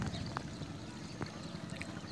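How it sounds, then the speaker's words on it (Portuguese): Water runs steadily down a drain pipe in a flooded street during neighborhood flooding in Porto Rico, Maranhão, a continuous rushing and trickling wash at moderate level with no talk. "Esse cano aqui é o cano que a água desce"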